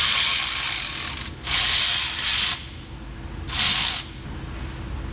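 Ratchet wrench working a 1/2-inch retaining bolt loose on a barn-find Dodge Charger Daytona abandoned for 32 years, in three bursts of rapid clicking with brief pauses between, close and fairly loud.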